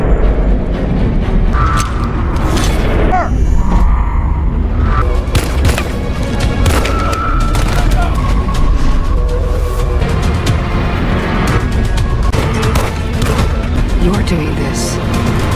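Movie gunfire as members of a division shoot one another: loud, dense booms and shots that keep going through the scene, mixed with dialogue and a busy soundtrack.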